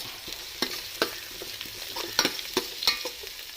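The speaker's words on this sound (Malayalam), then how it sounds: "ഇതെല്ലാം നന്നായിട്ടൊന്ന് വഴറ്റിയൊന്ന് പച്ചമണമൊക്കെ പോകാം നന്നായിട്ട് വഴറ്റി കൊടുക്കും" Shallots and red chillies sauté in a pan with a steady sizzle. A spoon stirs them in an irregular run of sharp scraping clicks close by, and no one speaks.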